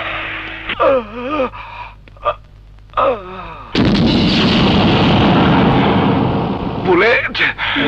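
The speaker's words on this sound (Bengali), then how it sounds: "তুই আমারে গুলি করে দিলি বুলেট" A gunshot in a dramatic Bangladeshi film scene hits as one loud blast with a long roaring tail, preceded and followed by voices gasping and speaking.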